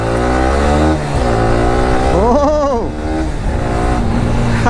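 A sports motorcycle engine revs loud and close, pitch climbing and falling in a sharp sweep near the middle of a steady idle drone, with no talking.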